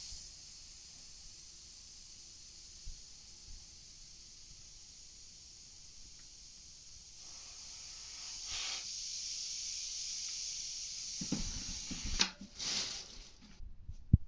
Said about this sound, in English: connect your pump, and then start pumping.